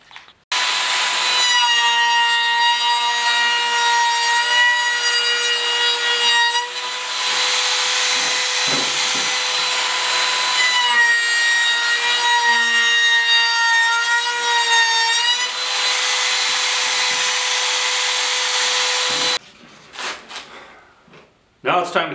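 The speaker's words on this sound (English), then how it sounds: "use a 1/4 inch round over bit and round over the inside of the handle" Router with a 1/4 inch round-over bit shaping the inside of a wooden step stool handle, a loud continuous high whine with shifting pitch over about nineteen seconds, then stopping with a few clunks.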